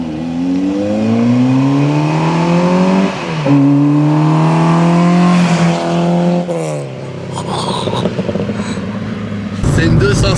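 A Peugeot 205 Rallye engine revs hard under way, the loud, close engine note climbing in pitch through two gear pulls, then falling back to a rougher drone with a few sharp knocks.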